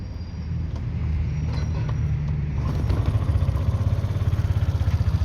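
A Suzuki Address 125S scooter engine is kickstarted and settles into a steady, throbbing idle, growing louder and more rhythmic after a few seconds.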